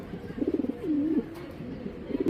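White Tracer racing pigeons cooing up close in a loft, with pulsing, throaty rolls followed by a longer wavering coo and a few softer bursts near the end, no talk.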